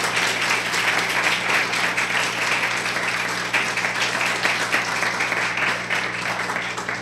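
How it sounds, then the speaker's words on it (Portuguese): A church congregation applauds during a pastoral ordination service, a dense, loud, sustained wash of clapping that holds steady throughout with a low hum beneath it. "Queria que a igreja também aplaudisse ao Senhor pelas famílias dos nossos irmãos."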